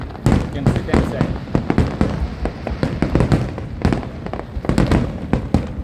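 Eid fireworks in Abu Dhabi burst in a rapid, irregular string of sharp cracks and pops, loud and close, with voices talking underneath.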